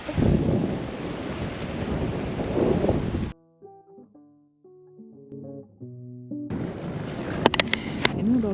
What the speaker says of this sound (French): je ne sais pas du tout si vous allez m'entendre parce qu'il y a un vent de dingue